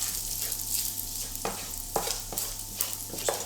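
Bacon fries crisp in a pan with no oil, giving a steady close sizzle while a utensil stirs and scrapes the strips in several distinct strokes over a constant low hum.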